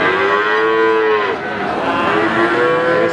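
Cattle moo loudly and continuously at a busy livestock market in Blora, with several overlapping drawn-out calls close by and no talk over them.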